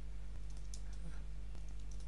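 A few scattered keystrokes on a computer keyboard, entering a tilde into a search, soft clicks heard over a steady electrical hum with no speech.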